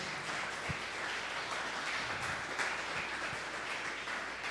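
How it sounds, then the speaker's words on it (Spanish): Applause from a church congregation honoring a young man, a steady, even wash of many hands clapping at a fairly faint distance, with no voices over it. "Un aplauso por la vida de este muchacho de Dios."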